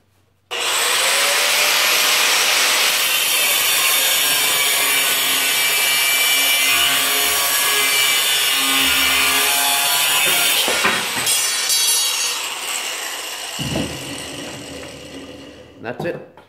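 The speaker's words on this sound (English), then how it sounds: "So I'm cutting the rebar at about 37" Steel rebar being cut for a concrete bench top with leaf impressions: a loud, continuous abrasive grinding screech that starts abruptly and holds for several seconds, then breaks into rougher scraping and clatter before ending.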